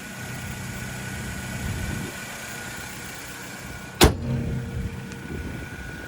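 A 2001 Toyota Tacoma with a 2.4-liter naturally aspirated four-cylinder idles with a steady mid-pitched hum, interrupted near the end by a single sharp bang.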